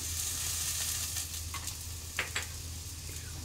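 Nuts dropped into hot oil for khichuri, giving a steady, close sizzle and hiss of frying with a few brief clinks of stirring near the end.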